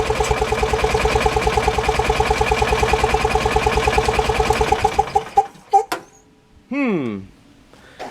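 A flooded gasoline engine cranks over and over without catching, a fast rhythmic chug that runs steadily before stuttering to a stop, followed by a brief whirring whine.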